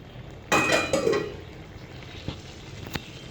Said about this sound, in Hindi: अभी मैं इसे फिर कवर करके रख दूँगी।